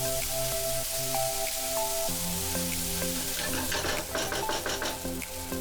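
Chopped onion and tomato frying in a pan for a Goan fish curry, a steady close sizzle and crackle with some stirring, getting busier toward the end, with no talking.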